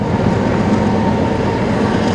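A train rumbles across a rail trestle directly overhead, a loud, continuous, heavy roar with dense rattling and no break, with no voices.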